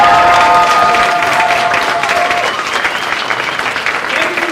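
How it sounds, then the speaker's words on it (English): Loud applause from a comedy theater audience, dense clapping mixed with a few cheers and crowd voices, starting at full strength and easing slightly as it continues. "Give yourself a round of applause."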